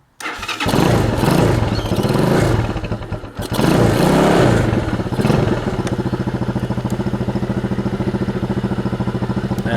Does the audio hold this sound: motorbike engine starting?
yes